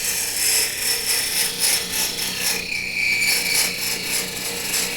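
A small cut about 1/16 inch deep on a fidget spinner part gives steady rhythmic rasping and rubbing strokes, close and moderately loud, with a brief higher whine in the middle.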